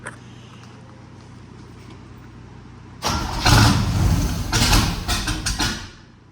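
A 1963 Corvette engine fires up and roars loudly through mufflered side pipes, a quiet low rumble giving way to a sudden surge of revving for about three seconds before easing off at the end.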